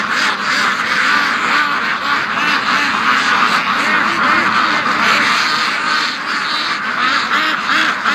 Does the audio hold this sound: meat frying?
no